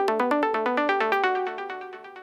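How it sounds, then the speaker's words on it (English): Analog-style synth from the Diva plugin with its filter cutoff pulled down, a cleaner, rounder arpeggio of quick staccato notes repeating steadily, close and unaccompanied, softening gradually toward the end. "it kind of just sounds really clean"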